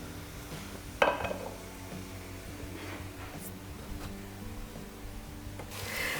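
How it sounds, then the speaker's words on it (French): Dishes and cutlery clink while a table is set, with one sharp ceramic clatter near the start and softer scattered knocks and chinks afterward, fairly close and with no talk. "Et pendant ce temps, je vais préparer ma table."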